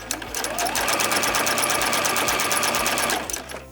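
A sewing machine runs a straight quarter-inch seam on selvage-edge fabric for a beginner fabric bin, a fast even rattle of stitches starting up, holding steady for a few seconds and then stopping, loud and close.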